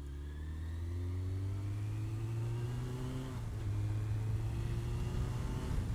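A Suzuki RF900R motorcycle engine idles while warming up, a steady close rumble that rises and falls slightly in pitch, with no one talking.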